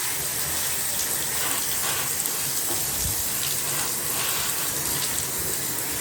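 Water pours steadily into a potted plant's soil for several seconds, a continuous close splashing gush with no talking.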